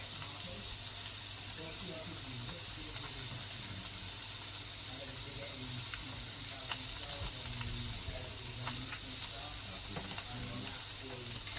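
Fish sizzles on a griddle with a steady, fairly quiet frying hiss and small crackles throughout, close by and without speech.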